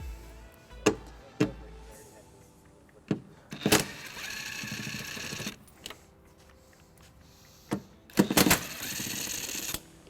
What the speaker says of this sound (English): We're going to remove these two bolts using a 10mm socket.